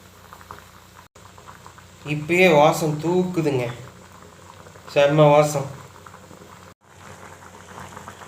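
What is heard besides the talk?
sweet corn boiling in a pot of water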